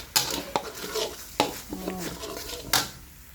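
Spicy wild boar curry being stir-fried in a pan with milk, with a spatula clanking and scraping against the metal several times over a soft sizzle, close and fairly quiet.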